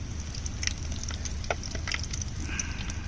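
Fish frying in hot oil over a stove, a soft steady sizzle with small crackles and pops running throughout, fairly quiet and close.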